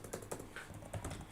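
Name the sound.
typing on a computer keyboard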